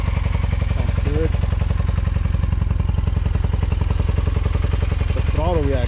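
A forty-year-old vintage Honda motorcycle engine starts up and runs at a steady, even idle, loud and close, with its rapid regular firing pulses continuing throughout; no talking is heard.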